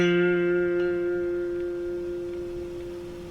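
An electric guitar plays part of a riff: a clear, sustained note rings out and slowly decays, with a few soft note changes, and no talking.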